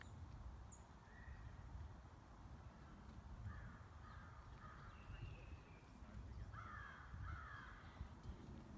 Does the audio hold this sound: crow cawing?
yes